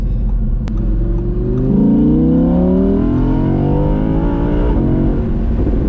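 An Audi R8 Spyder V10 engine screams and climbs in pitch, loud and close, with sharp throttle blips rising and falling without any voices.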